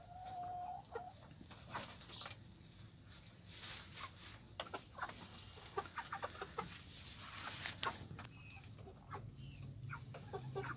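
Hens cluck softly and irregularly while a chicken feeds, with scattered pecks and scratches, faint low murmurs and a brief higher call near the start. The sound is quiet and close, with no talking.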